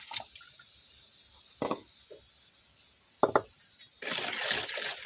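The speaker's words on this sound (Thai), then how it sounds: "สุดท้ายเลยก็จะใส่หัวกะทิ75 ml ลงไปค่ะ" Coconut cream is poured into a pandan dessert mixture in a quiet kitchen, with a few soft liquid plops and drips, then a short steady pouring splash toward the end.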